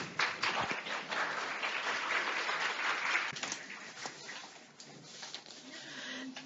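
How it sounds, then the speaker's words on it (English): A conference audience applauds at a 25th anniversary celebration of the ICA Asia-Pacific Committee on Women, dense clapping that swells early then thins and tapers, with a few scattered claps continuing near the end. "Please give her a round of applause"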